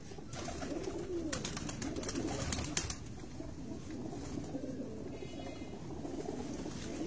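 Soft pigeons cooing in low, rolling murmurs, with a steady background hum and a few faint clicks; no voices.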